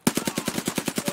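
Rapid automatic gunfire in Escape From Tarkov, about a dozen evenly spaced shots in a fast steady burst lasting just over a second, close and punchy.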